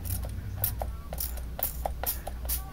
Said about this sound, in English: So it is spraying a nice fine mist.